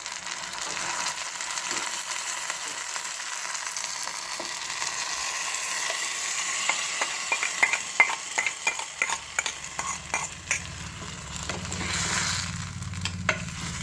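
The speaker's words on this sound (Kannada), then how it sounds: "ಈಗ ಇದಕ್ಕೆ ಒಗ್ಗರಣೆಗೆ ಸೇರಿಸ್ತಾ ಇದ್ದೀನಿ." A ground, pre-cooked greens paste of agase and gongura leaves goes into a sizzling tempering, giving a steady close frying hiss with scattered stirring scrapes and clicks, no voices.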